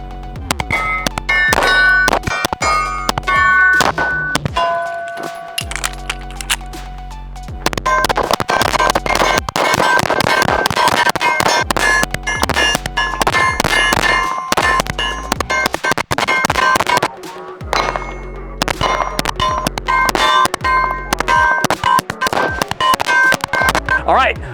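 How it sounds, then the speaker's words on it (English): Rapid gunshots from a CZ custom shop pistol ring off steel targets at a range, sharp metallic clangs and dings in quick strings with brief pauses between volleys. "So let's shoot this thing."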